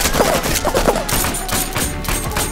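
Gunfire in a Turkish war film, a rapid fusillade of sharp overlapping shots and thuds over a dense rumbling battle background, loud and close throughout.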